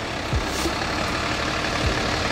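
A Nissan 350Z heading off to get a new 800 whp VQ engine block is driven away, a steady, fairly loud engine rumble that holds evenly throughout with a couple of brief low thumps.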